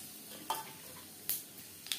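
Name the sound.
whole spices sizzling in hot oil for tempering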